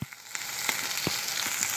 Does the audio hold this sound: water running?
no